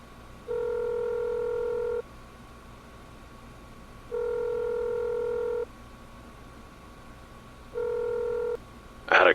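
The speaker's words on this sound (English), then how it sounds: "From his belt clip, he unclasped his phone and dialed Elder Kai." A phone placing a call sounds three long, steady electronic tones separated by even pauses, clear and close, with a brief rustle at the end.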